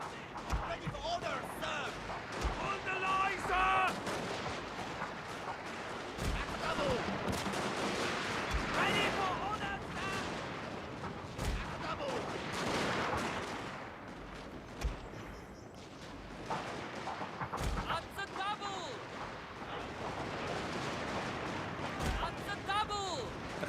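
Gunfire rattles through a battle in the strategy video game Shogun 2, with dense volleys and scattered sharp shots over a continuous clamor of combat.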